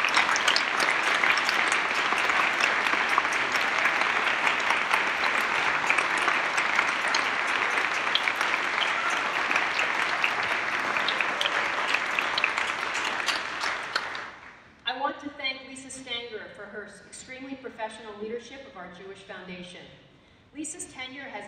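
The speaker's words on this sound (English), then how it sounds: "will you all please join me for a very well-deserved round of applause" An evening audience gives staff members a sustained round of applause, loud dense clapping for about fourteen seconds that then gives way to someone talking.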